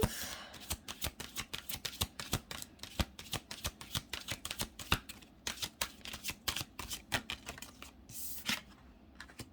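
A deck of cards riffled and shuffled repeatedly up close, rapid crisp flutters and snaps in an uneven rhythm, no talking.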